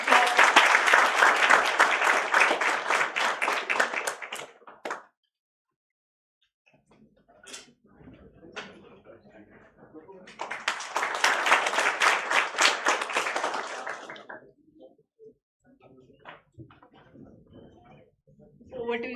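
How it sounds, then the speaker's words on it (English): An audience at an institute introduction program breaks into loud applause, a dense burst of clapping for several seconds, then quieter scattered sounds, then a second strong round of clapping that fades out, with a fresh burst starting right at the end. "Big round of applause."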